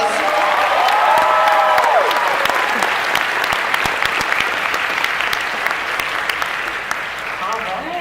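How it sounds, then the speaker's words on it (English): A crowd at the Crunchyroll Expo 2018 cosplay masquerade breaks into sustained applause with some cheering and whooping. A voice speaks over the start of the clapping, which stays loud and gradually thins toward the end. "Guys, round of applause."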